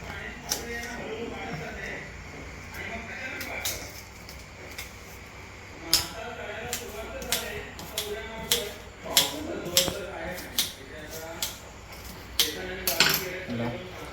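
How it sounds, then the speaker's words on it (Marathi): An onion is cut coarsely with a knife in a village kitchen, giving irregular close knocks of the blade on a board, sometimes in quick runs, with faint voices in the background. "कांदो पण तुम्ही जास्त बारीक कापायची गरज नाही, असं कापून घ्यायचो."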